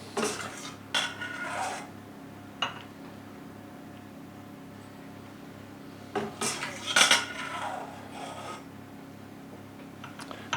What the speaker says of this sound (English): So now we want to carefully ladle our egg custard